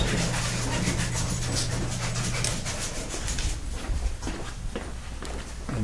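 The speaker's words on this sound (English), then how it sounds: "Hey, little puppies." Puppies in a kennel pant rapidly and steadily up close, with faint whimpers and some shuffling movement mixed in.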